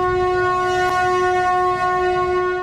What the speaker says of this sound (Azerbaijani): Türkiyədən Azərbaycana gələn yük qatarı artıq Bakıya daxil olub